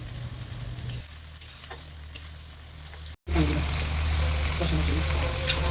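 Chicken masala with tomato puree being stirred in a pan for chicken bhuna, a moderate sizzle that drops out for a moment and returns louder and wetter, with bubbling and scraping strokes up close.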